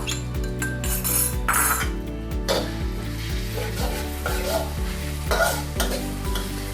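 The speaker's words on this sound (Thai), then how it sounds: "น้ำมันร้อนแล้วเราจะใส่พริกกับกระเทียมลงไป" Chili and garlic frying in about three tablespoons of hot vegetable oil for a Thai stir-fry, a loud crackling sizzle with a spatula scraping and clinking rhythmically against the pan, and no talking.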